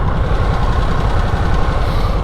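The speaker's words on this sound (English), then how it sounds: "This one's got some valve noise compared to like the Pan America" A 2022 Harley-Davidson Sportster Nightster engine runs steadily close by, a dense low rumble with a busy mechanical clacking of valve noise layered through it, continuous and loud with no voices.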